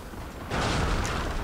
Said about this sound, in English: that was a massive explosion